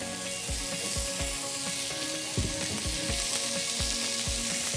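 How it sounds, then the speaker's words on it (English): Thin pollock fillets sautéing in a pan while being basted with brown butter, a loud, steady sizzle close by with repeated rhythmic spoon taps and splashes, no speech. "We're gonna take our nice brown butter and start to just baste our pollock fillets a little bit."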